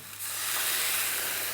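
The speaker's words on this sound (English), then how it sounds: "Create some steam that'll really help cook them through." Water poured into a hot pan of mushrooms over medium heat bursts into a loud, steady steam hiss that starts abruptly and holds constant, with no voices.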